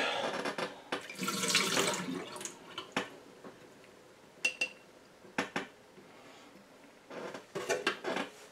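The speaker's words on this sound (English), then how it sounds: "put in a bit of extra water and make sure they all come out" Water is poured and swirled over cucumber seeds in a container, giving sloshing splashes and intermittent clinks and drips in short bursts.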